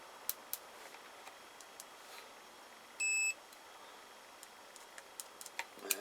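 A multimeter gives one short, clear electronic beep about halfway through while checking carburettor and airbox parts from a Kawasaki BN125 Eliminator, with faint ticks and clicks scattered around it and no talking.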